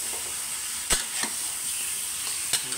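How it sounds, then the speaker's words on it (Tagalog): Pork ribs sizzle while frying in a pan for a kalderetang baboy sa kamatis, a steady close hiss with a few sharp crackles and pops. "Pag-irita ang buto-buto."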